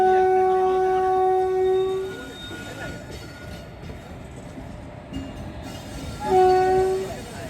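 A train passes a level crossing at Sumatulla railway station: a loud two-tone horn blast, then the rumble and clatter of wagons rolling by, and a second horn blast near the end.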